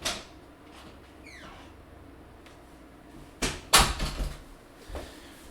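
An indoor door opening and then shutting with a couple of sharp knocks and clatters while a cat is let outside, set against a quiet room.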